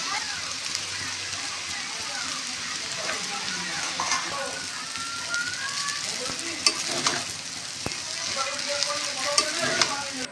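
Chowmein noodles added a little at a time and stirred in a sizzling frying pan, with continuous frying hiss and occasional utensil clinks, while a person talks over the cooking.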